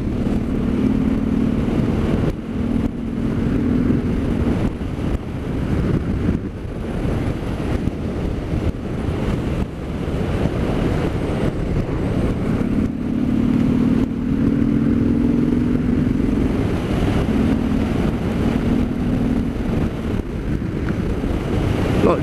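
A 2019 Harley-Davidson Sport Glide chugs along steadily on the road, its low engine rumble continuous beneath heavy wind buffeting across the microphone, with no talk.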